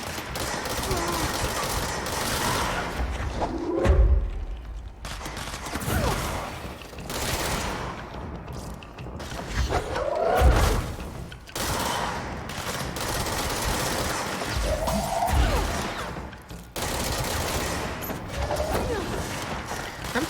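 Gunfire from the video game Control, bursts of shots in a chaotic fight with several sharp low impacts spread across the stretch, under a steady bed of game noise and occasional voice.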